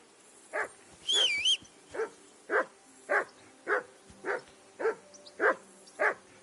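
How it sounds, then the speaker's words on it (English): A dog in the medieval game Kingdom Come: Deliverance II barks in a steady series of about ten sharp, evenly spaced barks, fairly close, with a brief higher whine or yelp early on and no talk over it. "Henry, that barking's driving me nuts."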